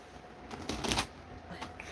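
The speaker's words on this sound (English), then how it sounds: "I still can't shuffle cards." Playing cards being shuffled, a quick fluttering riffle that peaks briefly in the middle, followed by a softer second flick, close and fairly quiet.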